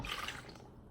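Water poured into a big bowl for a bird's nest craft makes a brief, steady splashing rush at close range, loud and unbroken for about a second.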